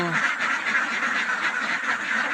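Domestic ducks quacking continuously in a dense, close chorus of overlapping nasal calls, loud and steady throughout the short stretch, with no talk.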